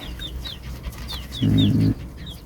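Small chickens, around thirty to forty young birds, clucking at a farm, with scattered faint chirps above a low continuous rumble and a louder, steady burst of clucking midway.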